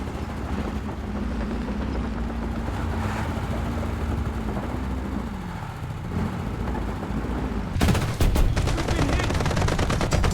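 A .50 cal machine gun fires in War Thunder, a rapid rattling burst arriving near the end after a stretch of engine rumble and distant battle noise; loud and close.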